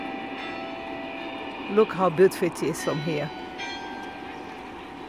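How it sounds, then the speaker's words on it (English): A church bell rings at Lourdes, its sustained tones carrying from a distance beneath someone speaking over steady outdoor background noise. "can you hear the sound of the bell?"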